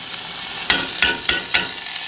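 A quarter of a small onion and a small garlic clove fry in a little oil in a pan, giving a steady close sizzle broken by four stirring scrapes at regular intervals.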